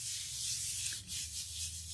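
Acrylic paint is rubbed into a gel printing plate with a soft, continuous hissing friction that swells and eases in short strokes, close and fairly quiet.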